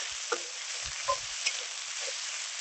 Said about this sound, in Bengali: এবার আমি এর মধ্যে দিয়ে দেবো আদা আর জিরে বাটা। হালকা একটু তেলের মধ্যে কষিয়ে নেব